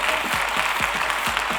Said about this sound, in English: Let's clap it up a little louder for her